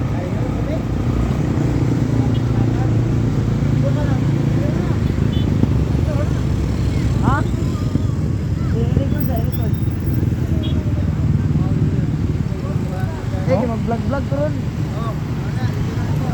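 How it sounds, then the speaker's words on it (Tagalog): Dense, steady road traffic rumbles across the Panguilbay bridge on its opening day, engines and motorcycles droning close and continuous, with people chatting over the noise. "Grabe ang traffic."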